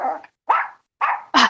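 A dog in a train-station shop gives four sharp barks in quick succession, close and loud, each a short gruff burst separated by brief silences.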